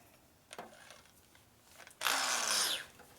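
A drill bores into a 1961 Harley-Davidson FL panhead engine, with a brief whir, then a louder sustained grinding burst of about a second, close and alone.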